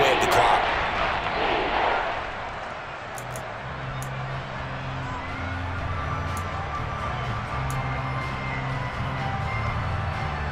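Stadium crowd noise from a Madden football video game, a loud broad roar swelling early then settling into a steady sustained murmur with faint low tones underneath, no voices in the foreground.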